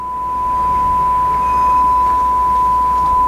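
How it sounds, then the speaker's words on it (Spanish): A steady, pure 1 kHz electronic test tone holds one pitch without a break, with faint background hiss beneath it. "1 kHz suena más o menos así."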